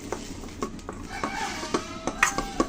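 Mashed potato bhorta is kneaded by hand, giving soft, irregular squishing pats with light clicks at a close, quiet level and no talking.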